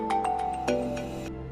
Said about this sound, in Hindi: अभी पुलिस स्टेशन से फोन आ रहे हैं।